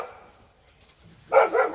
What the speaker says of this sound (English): Well, sorry about the dogs.